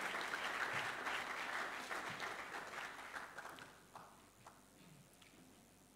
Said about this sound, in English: Can we give him a sound round of applause,